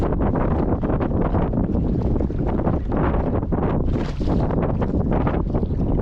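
Wind roars steadily and loudly across a rigid inflatable boat out at sea during a fishing trip, buffeting the microphone with a continuous, unbroken rush.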